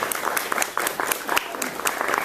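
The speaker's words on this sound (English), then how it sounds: "so give her a round of applause for the work that she's done" Applause from an audience at a corporate award event in Chicago, honoring a recipient of an Outstanding Diversity Leader Award: steady dense clapping filling the room, fairly loud and continuous, with a few sharper claps standing out.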